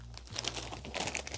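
A hand rummages in a plastic snack bag of crisps and puffed shrimp snacks, giving close, irregular crinkling and rustling in short bursts.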